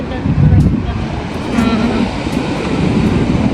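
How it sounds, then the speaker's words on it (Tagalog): Gusty seaside wind buffets the microphone with a low, uneven rumble, and a broad wash of surf-like noise runs underneath. "At dito sa tabing dagat ay mahangin."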